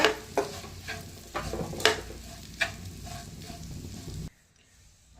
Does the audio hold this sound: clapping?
no